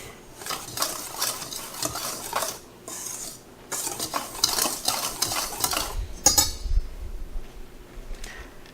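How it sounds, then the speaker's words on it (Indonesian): A spoon stirs rice flour batter with tapioca starch, sugar and salt in a bowl, a run of close scraping and clinking strokes with a brief pause and one sharper knock near the end, no talk. "aduk rata."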